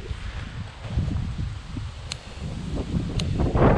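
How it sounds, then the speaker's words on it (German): Strong wind blowing outdoors, a rough rumbling buffet across the microphone that rises and falls in gusts, with a couple of faint sharp ticks and no talk. "Starker Wind hier gerade."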